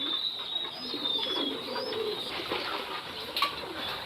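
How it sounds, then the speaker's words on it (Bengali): Pet pigeons coo steadily at close range while being fed, their soft repeated calls layered with light chirps and a brief wing flutter near the end, with no talking. "এ হলো সকল কবুতরগুলোকে খাবার দেওয়া হয়েছে"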